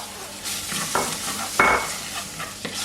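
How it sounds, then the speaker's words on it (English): Butter goes into a pot of beef bourguignon and gets stirred, with soft scraping and clinking of a spoon against the pot over a steady low sizzle, and a few brief sharper knocks. "We're putting in butter."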